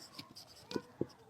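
Chalk or marker writing on a board while a math problem is worked out: faint, quiet scratchy strokes and a few soft taps in an otherwise hushed room.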